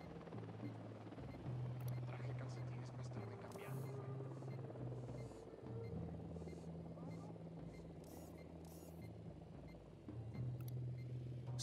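A helicopter in Ghost Recon Wildlands near a tower outpost, its low rotor drone humming steadily with slight rises and dips, while brief higher clicks and rustles cut in above it.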